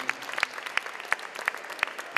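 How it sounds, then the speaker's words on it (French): An audience claps at a dance awards ceremony, brisk and evenly spaced, filling the space at moderate loudness with no talk over it. "On peut l'applaudir, Guylaine"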